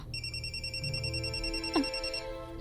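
A telephone rings steadily with a repeating electronic bell tone, fairly close and continuous, with a brief thump partway through and no talk over it.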